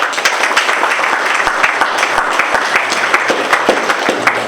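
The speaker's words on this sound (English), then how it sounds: "Let's give her a clap, please." An audience applauds for an elderly woman's 80th birthday during a Shiv Puran yagna night gathering at an ashram, with steady, close clapping and sharp individual claps standing out across the whole stretch.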